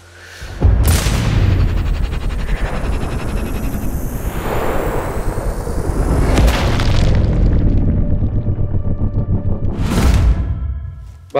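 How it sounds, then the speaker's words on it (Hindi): Sniper rifle shots in the video game Sniper Ghost Warrior Contracts 2, a loud, close booming blast followed by a long rumbling tail, then a second heavy boom near the end. "बहुत जबरदस्त शॉट भाई क्या बात है चीथड़े उड़ गए"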